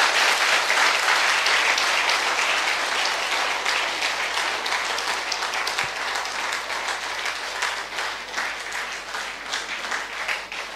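A church congregation claps together steadily for several seconds during worship, the applause loud at first and gradually thinning out toward the end.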